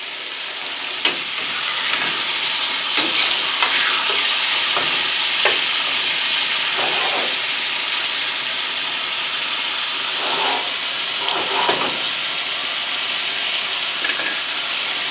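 Beef tips sizzle and fry steadily in a pot on a wood stove, a constant hiss with occasional stirring scrapes and soft clicks running throughout, close and fairly loud.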